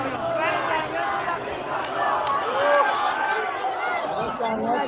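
A dense crowd at an uprising protest in Karaj, Iran: many voices shouting and calling together in a loud, continuous roar with no pauses.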